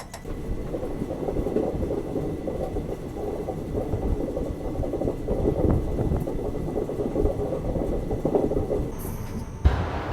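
A passenger train overtaking on an Indian railway line from Bengaluru toward Rajkot, a steady loud rumble of wheels and engine rolling past close by for the whole stretch, ending in a brief bump.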